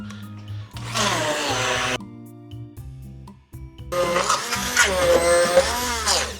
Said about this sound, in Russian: Для этого нам понадобится блендер.